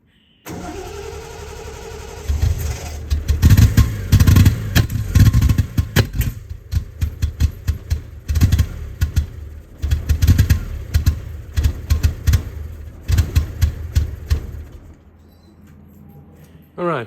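A Triumph TR6 with a starting fault cranks and fires in repeated bursts, its engine loud and close with rhythmic churning pulses, brief catches and lulls between tries, and no talk over it.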